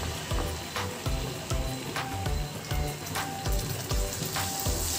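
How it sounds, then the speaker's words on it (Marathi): An onion, garlic and tomato paste fries in oil and butter for butter chicken, a busy sizzle broken by repeated close scraping stirs of a spatula in the pan, at moderate level with no speech. "साधारण मिनिटभर आपण ही तेलामध्ये व बटरमध्ये अशा पद्धतीने परतून घेतो"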